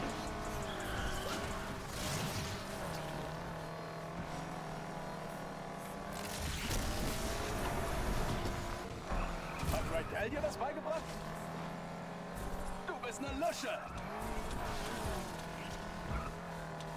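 An engine revs and tires squeal as a car drifts sideways in the Need for Speed Unbound racing video game, screeches rising and falling repeatedly under someone talking throughout, with game music beneath.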